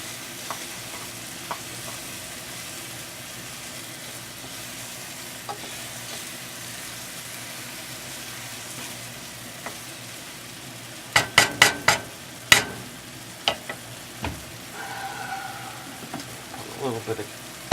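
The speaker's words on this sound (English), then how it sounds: "Usually it takes quite a while for the mushrooms to cook down" Small chopped mushrooms cooking down in a pan with a soft, steady sizzle, then a burst of clattering utensil scrapes and knocks near the end, close and moderately quiet.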